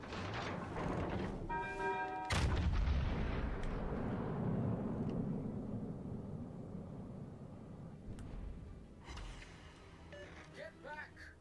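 Battleship gunfire in World of Warships: Legends: a heavy boom around two seconds with a long rumbling decay, then a second blast and further distant shots, with game effects and faint voices around them.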